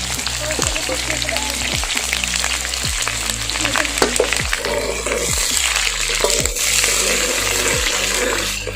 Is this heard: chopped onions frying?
yes